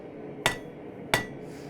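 Two sharp, ringing hammer blows on hot metal over an anvil's radius, drawing out the stem of a forged leaf, spaced about half a second apart with a brief metallic decay after each, close and alone over low forge hum.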